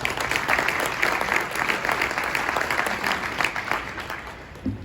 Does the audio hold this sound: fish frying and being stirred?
no